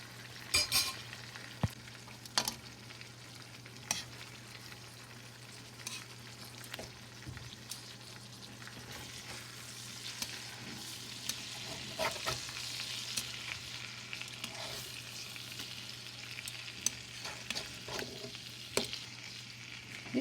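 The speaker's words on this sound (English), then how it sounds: "Now flip it over after 2 minutes and fry another 2 minutes." Chicken thighs sizzle steadily in a frying pan for a curry, a constant crackling hiss broken by occasional clinks and scrapes as the pieces are stirred and turned, with no voices.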